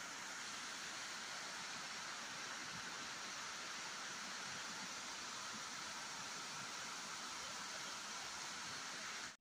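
Rushing water at the Silla Chowki waterfall and river near Dehradun, a steady, dense broadband roar with no breaks, close and constant throughout, with no voices.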